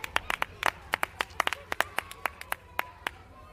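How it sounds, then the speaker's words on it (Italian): Sparse clapping from a few people, close and uneven, with sharp individual claps scattered over a few seconds and light murmuring underneath. "Applausi dopo 100 anni."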